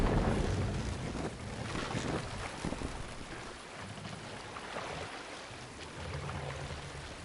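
A Viking longship sails in the video game Assassin's Creed Valhalla, with a continuous broad rush of wind and water surging and easing for several seconds, and no voices over it.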